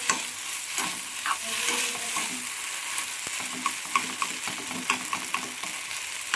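Cooked noodles are stirred into a sizzling frying-pan mixture, close, steady frying hiss punctuated by repeated scraping and clacking strokes of a utensil against the pan, with no talking.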